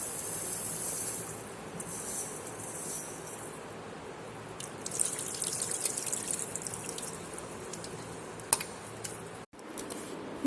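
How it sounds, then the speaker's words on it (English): Green gram (mung beans) are washed under running water, with a steady close gush of tap water and occasional splashes and clinks of the beans and the bowl. "Now we will wash the green gram properly and soak it for 3 to 4 hours."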